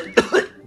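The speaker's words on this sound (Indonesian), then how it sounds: "Tuh kan batuk lagi." Three sharp coughs from a person at a doctor's visit, the first and last loud and abrupt, a quieter rasping one between them, close to the listener.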